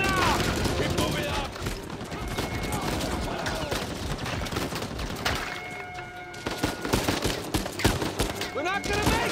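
Sustained gunfire in the video game Uncharted 4: dense, rapid bursts of shots crackle almost nonstop at close range, briefly easing near the middle before picking up again.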